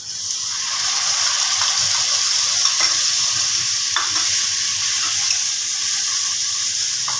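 A prepared batter goes into a pan with ginger and green chilies over low heat while making chana chaat, and a steady, close sizzle hisses throughout. Faint stirring scrapes sound under it, with no talk.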